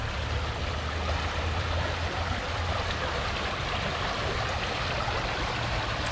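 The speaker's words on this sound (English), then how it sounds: "The sound of the water is just so soothing." A small creek flows through a park, a steady, even rush of water that runs unbroken from start to end, with a low hum underneath.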